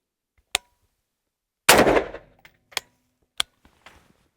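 Gunshot fired with the muzzle right next to an EB Mark 1 radar, set further to the side: one sharp loud blast followed by a decaying rumble, with a few isolated clicks before and after.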